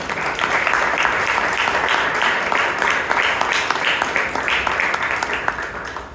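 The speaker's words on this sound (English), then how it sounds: "And a big round of applause to our Secretary, Toastmaster Abhinava." A crowd at a Toastmasters club meeting in Bangalore applauds steadily for several seconds, a dense patter of many hands clapping together at moderate volume, tapering slightly at the end.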